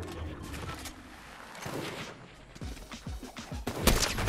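Video game gunshots during a no-scope trick shot: a scattered cluster of sharp cracks, close and fairly loud, ending in a louder burst, with no talk.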